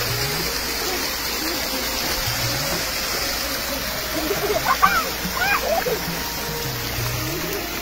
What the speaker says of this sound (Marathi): ती का ज्याचा पीव्हीसी पाईप आहे ते फुटलेलं आहे आणि तिथून तर चांगलंच पाणी हे